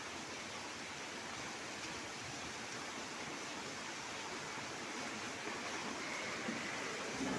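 Rainwater runs along a road like a canal during heavy rain, a steady broadband wash of flowing water that holds constant and close throughout, with no voices.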